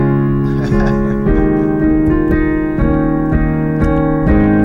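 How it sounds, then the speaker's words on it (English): Sustained piano chords change at a slow, steady pace in a hymn-like progression, played fairly loud with no voices. "there's always this piano player, doing something like this here"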